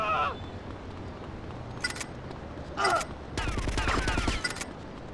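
Short separated bursts of gunfire in GTA Vice City Stories, a couple of brief volleys followed by a longer rattling stretch, with a voice heard briefly at the start and middle.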